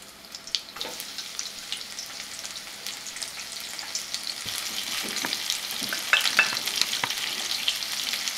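Onions, tomatoes, garlic and chili pepper fry in oil over medium-low heat for Chinese long beans, a continuous close crackling sizzle with scattered pops and scraping stirs that swell louder toward the end.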